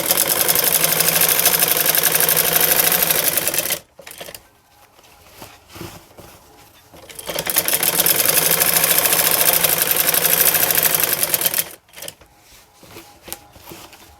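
A sewing machine stitches ladies' trousers in two long runs of rapid, even mechanical chatter, broken by a short pause with quiet handling of fabric between them.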